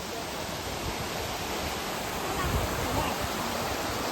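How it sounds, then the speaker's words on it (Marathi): River water flows below a waterfall near Siddheshwar. A steady, broad rushing roar holds at an even level throughout. "This is the river of that waterfall."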